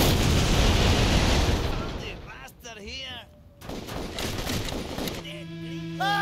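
Grenade launcher blasts in the Total Overdose game, a loud burst of rumbling explosions and gunfire, a gap, then further booms while gameplay noise continues.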